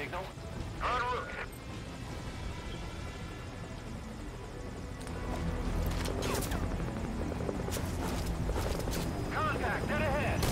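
A helicopter in Metal Gear Solid V: Ground Zeroes thrums with a steady low rotor drone that grows louder and nearer halfway through, under radio-style voices talking and some sharp game effects.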